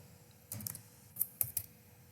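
Quiet computer keyboard typing during a PowerPoint presentation, a few separate bursts of crisp key clicks against a faint background hum, with no voices.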